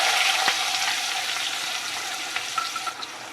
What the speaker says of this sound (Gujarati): ડુંગળીનો વઘાર મારી દેશું.